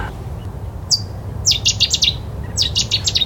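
A Cetti's warbler sings loud, close, explosive bursts of rapid high notes in a wetland reedbed, with a brief call before two vigorous phrases over low background rumble.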